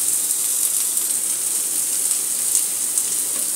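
Sliced onions dropped into a hot pan for squid adobo hiss and sizzle steadily, a dense, even frying noise close up that holds without a break from start to finish.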